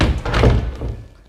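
A house door swings shut in a Round Rock, Texas home with a single soft, close thunk that fades into a quiet room.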